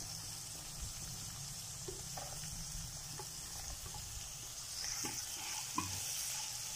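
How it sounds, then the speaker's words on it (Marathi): Cauliflower, carrot and tomato sautéing in ghee for mixed vegetable masala khichdi, a faint steady sizzle with occasional light stirring clinks, no voices. "तुपामध्ये छान परतून घ्यायचं आहे"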